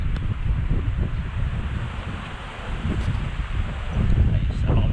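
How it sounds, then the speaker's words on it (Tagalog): Strong wind buffeting the microphone outdoors, a continuous rough roar with gusts that swell toward the end, while people chat over it. "Lakas ang hangin no."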